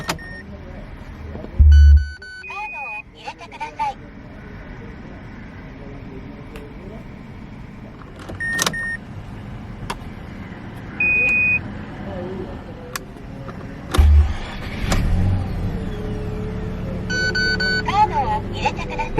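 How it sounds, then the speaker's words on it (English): A 2012 Mazda RX-8 Spirit R with a custom remote-valve exhaust starts up: a few chimes and beeps, then a short cranking burst settling into a steady idle rumble while someone talks. "Put your foot on the brake and twist this built-in key to start."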